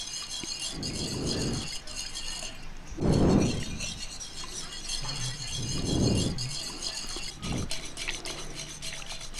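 A spoon stirs curd into warm milk for misti doi, giving several bursts of scraping and glassy clinks against the vessel, spaced a couple of seconds apart and close by, with no talking.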